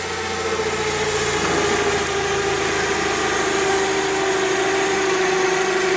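A forklift engine idles steadily and loudly close by, a constant mechanical drone with a prominent hum throughout.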